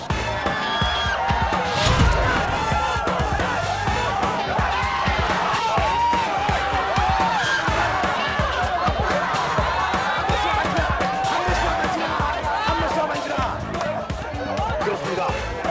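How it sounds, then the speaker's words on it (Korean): A crowd of school students cheering and shouting in a noisy, busy hubbub during a visit to a school, with people talking loudly throughout. "후배들이 저의 기운만을 느끼고 환호성을 지르네요"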